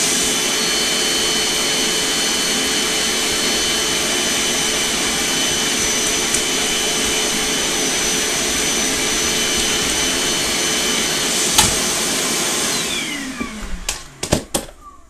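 A FLEX vacuum cleaner runs at half power on its regulator, holding a loud, steady whooshing roar up close for most of the stretch, then a few clicks and knocks come as it winds down near the end.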